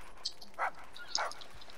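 A dog in Grand Theft Auto V gives two short barks about half a second apart, fairly close and clear over a quiet background.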